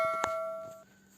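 Subscribe bell notification effect: a single bright electronic ding with a sustained ringing tone that fades out within a second, clean and alone.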